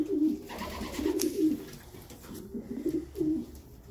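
A racing homer pigeon cock coos close by in soft, repeated low rolling phrases over about four seconds, with faint background noise and no talking.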